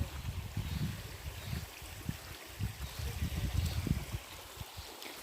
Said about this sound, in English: Love the sound of water.